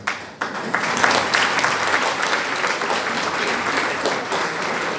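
An audience at a Christmas show in Dărmănești applauds the children on stage, a dense, sustained wave of clapping that starts abruptly and stays loud throughout.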